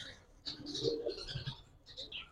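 Old-breed pigeons coo softly in a low, rolling murmur, with brighter chirpy calls above and a voice mixed in.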